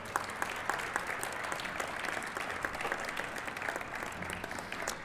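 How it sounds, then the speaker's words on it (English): Audience applause at a university President's Club fireside chat evening, an even, fairly soft patter of many hands clapping throughout with no pause. "a round of applause and a thank you and a welcome"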